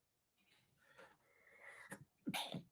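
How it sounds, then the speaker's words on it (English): A close, sharp sneeze bursts out after a couple of quick inhaling breaths, followed by a second short sneezing sound. "I might sneeze."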